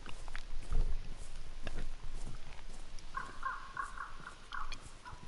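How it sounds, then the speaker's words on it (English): Birds in a forest in the video game DayZ: scattered faint chirps and one short run of repeated calls over a soft, hissy outdoor background, with a few low thumps and no speech. "I love the sound of the birds."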